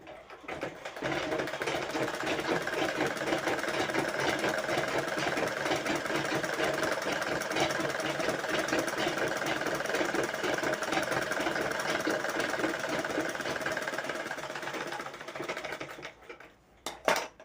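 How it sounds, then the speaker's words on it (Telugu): A sewing machine stitches straight along a lined blouse in one steady, fast, rattling run close to the mic for about fifteen seconds, then slows and stops. "ఇప్పుడైతే నేను దీనిపైనకించి డైరెక్ట్ కుట్టుని వేసేసుకుంటున్నాను."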